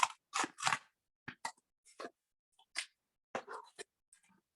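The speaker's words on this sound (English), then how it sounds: "I just kind of find the corner of the cardboard here and just cut across on a diagonal to get my triangles" Scissors snipping diagonally across a sheet of cardboard to make triangles, a few quick crunchy cuts in separate bursts with short pauses between, close and fairly quiet.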